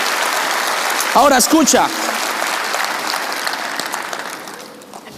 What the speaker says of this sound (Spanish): Vamos, dale un aplauso al amor de Jesús.